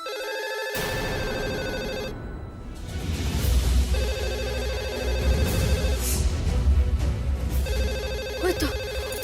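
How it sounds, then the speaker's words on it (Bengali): A telephone rings repeatedly in electronic tones over a busy background of music and room noise, fairly loud and steady throughout. "ওই তো ফোন বেজেছে।"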